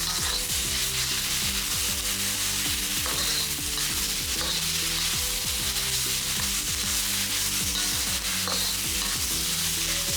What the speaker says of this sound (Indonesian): Lalu tambahkan daging ayam dan udang ke dalam panci penggorengan bersama bawang yang telah digongseng